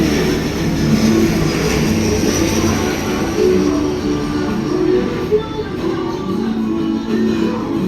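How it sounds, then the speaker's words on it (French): A Fly Gabon airplane passes over Libreville near the Baie des Cochons, a broad, steady engine roar that holds evenly throughout, fairly loud and with no voices over it. "ça, c'est Fly Gabon, avion gabonaise qui fait le bruit là, vous entendez?"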